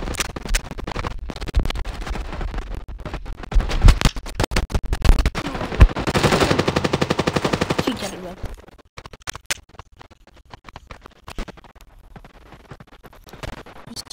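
Rapid gunfire crackles through a match of the mobile shooter game Standoff 2, with sharp scattered shots and a dense sustained burst midway, while a player talks over the action.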